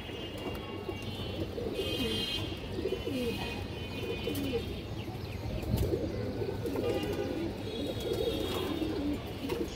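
A group of fancy pigeons coos in soft, overlapping, throaty bursts over steady background noise, close and continuous throughout.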